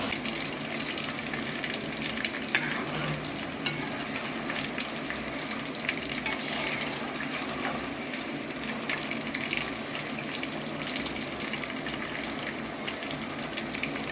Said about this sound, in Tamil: இப்போ கறியை போட்டோடனே மீடியம் ஃப்ளேமில் வைங்க அடுப்பை